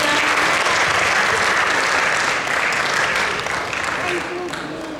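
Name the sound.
audience applause for Adhira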